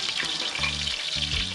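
Garlic, bonnet pepper and scallion sauté in a pan at an outdoor riverside cookout, giving a dense, close frying sizzle with no talking over it.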